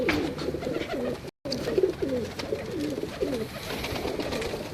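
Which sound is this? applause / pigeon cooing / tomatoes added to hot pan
pigeon cooing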